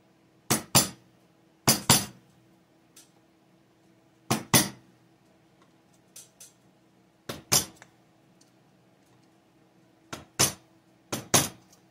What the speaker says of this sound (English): a little bit of screwdriver and precision tapping and get those laid out flat